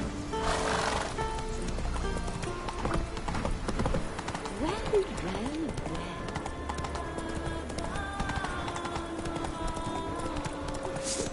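Roach, a horse in The Witcher 3 video game, gallops with steady clip-clop hoofbeats under game music and ambient sound, with a brief whinny-like tone mid-way.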